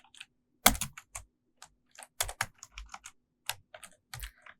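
Java code being typed on a computer keyboard, with irregular bursts of clicky keystrokes, some quick runs and brief pauses, close and clear with no talking.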